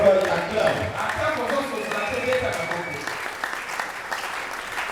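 Church congregation applauding and acclaiming the Lord during a sermon: steady, sustained clapping from many hands throughout, mixed with voices and cheering.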